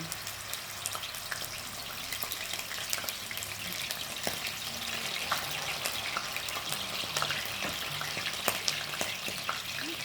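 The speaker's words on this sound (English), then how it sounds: "we're gonna fry them. My skillet's already hot in oil." Plantain pieces for tostones frying in a skillet of hot oil, a steady soft crackling sizzle that holds evenly throughout with scattered small pops, close by and with no talking.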